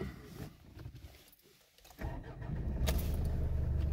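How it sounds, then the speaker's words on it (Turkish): A Mitsubishi L200 pickup with a 4x4 drivetrain starting up: a short starter crank followed by the engine catching into a steady, fairly quiet idle rumble, close by inside the cab. "Aracımı çalıştırıyorum."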